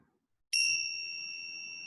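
A meditation bell is struck once after a moment of silence, its bright, clear tone ringing out loud and sustaining steadily with a long, slow decay.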